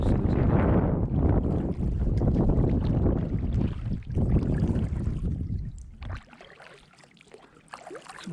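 Kayak being paddled through the mangrove channels of Ding Darling refuge on Sanibel, Florida: loud rushing water and wind buffeting the mic, then dropping to quiet drips and light splashes near the end.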